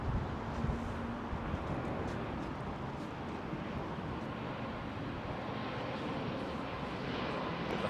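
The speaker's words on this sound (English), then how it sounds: "The Turkish 777 has arrived." A Turkish Airlines Boeing 777 from Istanbul lands at London Heathrow, heard as a steady, moderately loud broadband jet roar that holds evenly throughout with no voices.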